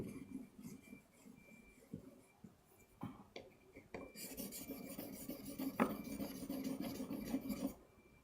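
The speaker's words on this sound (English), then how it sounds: "let me just finish sharpening" Pencil tip being sharpened: a faint, close rasping scrape comes in short strokes, then turns into a steadier, busier grind toward the end before it stops.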